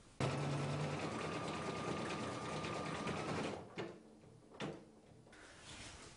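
A Brother Innov-is combination sewing and embroidery machine stitches a design with a fast, steady mechanical whir for a few seconds, then stops with a few clunks.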